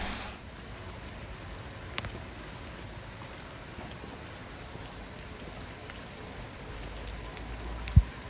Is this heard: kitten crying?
no